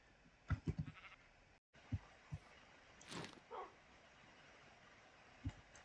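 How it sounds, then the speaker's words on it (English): Sheep bleat in a survival video game, a few short, faint calls scattered among soft game sounds, with a dog-like bark also in the mix. "look at that, we found a second pink sheep"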